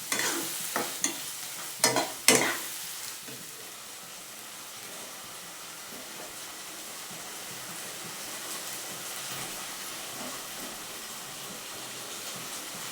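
Spice paste thinned with water tipped into a jackfruit and prawn curry: a few quick clatters and stirs at first, then a steady loud sizzle and bubbling that carries on alone.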